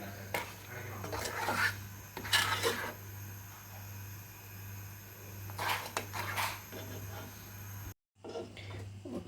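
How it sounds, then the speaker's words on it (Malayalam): Barfi sugar mixture stirred continuously in a pan, with repeated scraping and clinking strokes of a spoon against metal coming in bursts over a steady low hum, close and fairly loud. "ഇത് നമ്മൾ കണ്ടിന്യൂസ് ആയിട്ട് ഇളക്കി കൊടുക്കാനായിട്ട് ശ്രദ്ധിക്കണം."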